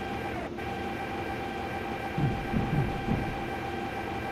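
A Minecraft train runs along its track at bullet-train speed, a steady mechanical rumble and hum holding throughout, with a few soft rhythmic clunks near the end like wheels passing rail joints.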